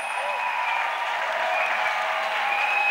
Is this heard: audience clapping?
yes